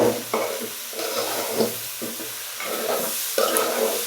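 Rice frying in a pot, with a soft continuous sizzle, faint scraping and stirring strokes, and a low background hum, heard close up with no one speaking.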